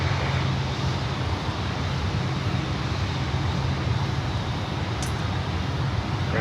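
A 17-year-old Aerolíneas Argentinas Airbus A330-200 airliner on approach gives off a steady, broad jet roar with low rumble, distant and even, holding without a break for several seconds.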